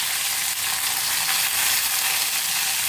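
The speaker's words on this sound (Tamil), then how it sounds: "கூடவே ஒரு வெங்காயத்தை கட் பண்ணி போட்டுப்போம்." Onion sautés with crushed garlic, cumin and fennel in hot oil, making a dense, continuous sizzle close up with no talking.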